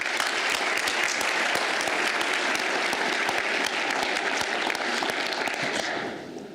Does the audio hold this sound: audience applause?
yes